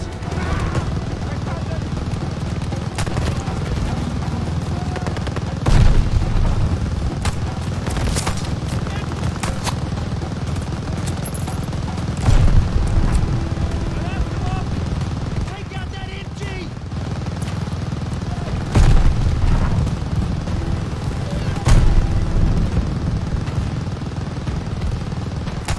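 Turret gunfire and explosions in Call of Duty Vanguard's Battle of El Alamein campaign mission, dense, continuous rattling bursts with heavy booms landing every few seconds, loud and close throughout.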